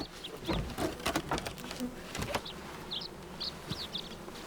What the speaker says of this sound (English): Whatever it is seems to be unfazed by a swarm of angry bees.